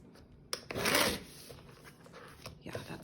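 A black mat is trimmed by hand during a craft project, giving one brief, firm rasping stroke followed by quieter, soft rubbing close by.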